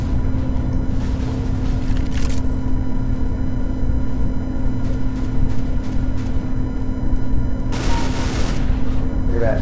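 Tec-9 pistol fire in the shooter game CS:GO, a dense stream of gunshots over steady game background noise, with one loud close burst near the end.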